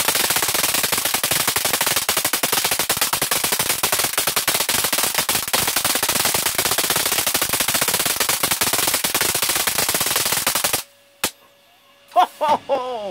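A very large sodium lamp under high voltage crackles loudly and continuously, a dense stream of sharp rapid snaps like gunfire, then cuts off into near silence broken by a few brief buzzing bursts.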